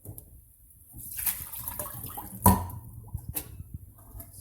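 Water splashes and drips while a pot is washed in a kitchen sink, with irregular spatters, a louder splash midway and gentle trickling, near and moderately quiet.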